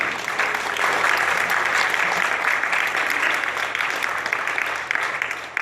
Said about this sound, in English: Just one more time, applause for her, one more time.